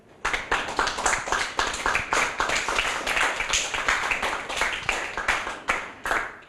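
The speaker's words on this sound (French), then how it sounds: "On applaudit Jordan." A small group claps steadily for a young presenter after a book presentation, dense overlapping handclaps with a brisk rhythm, close and fairly loud, continuing without pause and without talk.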